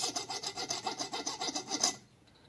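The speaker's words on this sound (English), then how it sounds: "spin the valve while I'm filing on it to get rid of that little burr" A hand file rasps across the end of an engine valve to clear a burr, a close, rapid back-and-forth scraping of metal in quick regular strokes lasting about two seconds before it stops.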